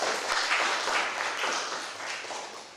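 Dense, continuous applause fills a poetry reading room for a reader, an even wash of many hands clapping close by that tapers slightly toward the end.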